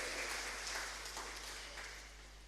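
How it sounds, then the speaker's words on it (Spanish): A church congregation applauds, a faint, distant wash of clapping that gradually fades out. "Dale un aplauso al Señor."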